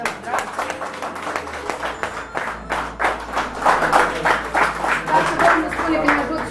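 At a family celebration, a small group claps in uneven bursts over a low hum and background chatter, the clapping growing louder and more rhythmic toward the end.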